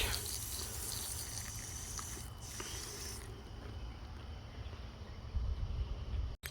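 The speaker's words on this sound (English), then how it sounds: "So I'm just gonna water these in since it barely rained." Water sprays steadily onto potted strawberry and blueberry plants from a hose, a constant hissing wash that shifts slightly partway through and ends with a brief clunk.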